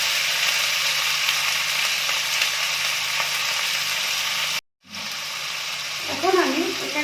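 Periwinkle snails and onion stalks frying in a pan while being stirred, a steady hiss of sizzling broken by a brief silence, then resuming with a voice starting to speak.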